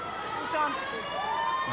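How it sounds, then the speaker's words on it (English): A full-time siren sounds at an under-19 State of Origin rugby league match between New South Wales and Queensland. It is a steady, sustained electronic tone that carries through crowd noise, with a commentator talking over it. "Siren's gone before that."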